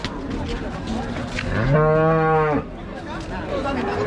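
A single loud, drawn-out cow moo rises up near the middle, with murmuring voices and haggling chatter around it at a Qurbani cattle market in Hazratpur.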